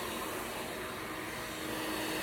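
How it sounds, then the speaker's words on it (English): A hair blow dryer blows in a steady, loud, continuous whoosh while drying the back of a woman's hair, with no talking. "now I'm going to start blow drying the back of her head."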